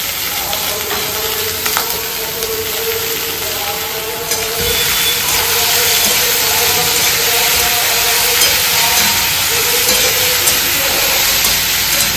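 Black cumin seeds sizzling in hot oil as tempering for a vegetarian Bengali bottle gourd curry, a steady loud frying hiss that swells slightly partway through, with faint background tones and no speech.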